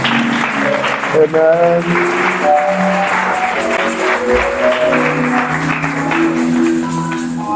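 A congregation at a French-speaking church service claps together for several seconds, steady applause mixed with voices and calls of praise.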